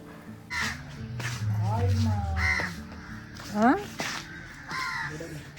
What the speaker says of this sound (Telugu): ఆ కాకులు గోల్ తప్ప నా వాయిస్ ఎక్కడ వినిపించదు